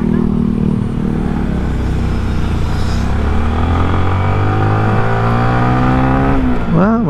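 A 2023 Yamaha Sniper motorcycle accelerates hard in fourth gear, its engine note climbing steadily in pitch with continuous loud wind and road noise as it rides along.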